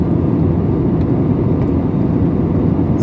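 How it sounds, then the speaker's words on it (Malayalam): A SriLankan Airlines airplane cruises at low altitude, its engines producing a loud, steady, unbroken roar and whir heard from inside the cabin, with no talk. "ഫ്ലൈറ്റ് അധികം ഉയരത്തിലല്ല പറക്കുന്നത്"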